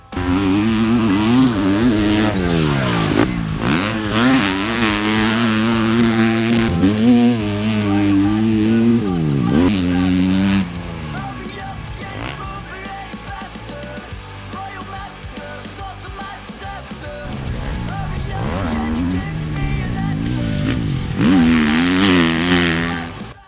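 A 2015 Husqvarna FC250 four-stroke motocross bike revving hard, its engine note rising and falling in repeated sweeping bursts, loud and close, then settling to a rougher idle before climbing again.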